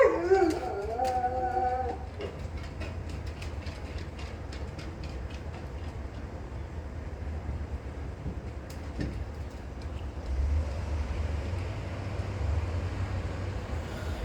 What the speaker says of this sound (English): The cat is injured, I think. That's why the dogs are reacting.